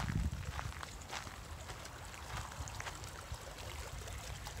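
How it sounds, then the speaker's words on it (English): Water streams and trickles over rocks in a fast-moving outdoor creek, a faint, steady babbling wash with small splashes, heard on a quiet nature walk. "Do you hear the water flowing?"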